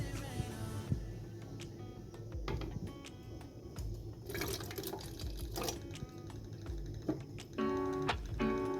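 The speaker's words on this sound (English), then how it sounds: "I'm going to mix vinegar, water, and some liquid soap." A cleaning solution of vinegar, water and liquid soap is mixed in a small kitchen, with pouring, sloshing and dripping liquid plus light clinks and taps, fairly quiet and without voices.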